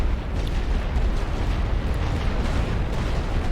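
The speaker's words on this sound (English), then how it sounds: "A good artillery barrage" Continuous heavy rumbling of an artillery barrage in The Great War: Western Front, a World War I strategy game, with dense overlapping explosions forming a loud, steady wall of low booms throughout.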